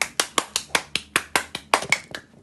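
Close, crisp hand claps ring out in a steady rhythm at a small home concert, about a dozen even beats slowing and fading slightly at the end.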